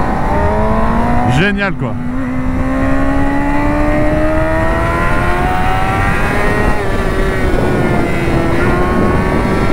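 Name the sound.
Honda CBR1000RR sport motorcycle engine revving while riding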